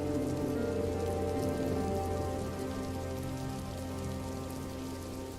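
Steady rain falls on a surface, a dense even patter with a low background hum, continuous and fairly soft throughout.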